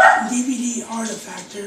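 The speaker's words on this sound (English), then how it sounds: "sorry for my dogs in the background" Dogs bark and yip in the background, starting loud and then fading under steady, continuous speech from a nearby talker.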